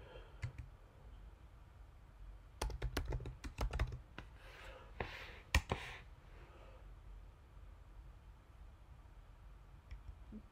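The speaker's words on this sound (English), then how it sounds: "I'm trying to type like as cleanly as possible so I don't have to like go back and delete and then retype it." Typing on a computer keyboard in short bursts of quick clicky keystrokes, close and fairly quiet, with pauses between bursts and a few isolated taps near the end.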